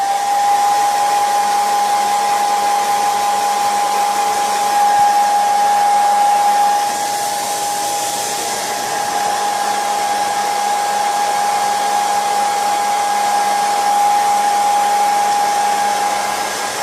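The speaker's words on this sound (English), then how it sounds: "we're gonna get the blow dryer and we're gonna blow dry it." A handheld blow dryer runs continuously, close and loud, with a steady airy roar and a thin whine that barely changes for over sixteen seconds.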